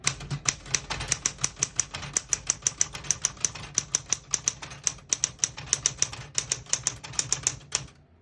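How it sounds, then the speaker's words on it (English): A 1966-1972 Smith-Corona Galaxie Deluxe manual typewriter's keys clack in a steady, fairly quick rhythm, dozens of crisp strikes close to the microphone with no voices. "I'll type a sentence in red on the next line."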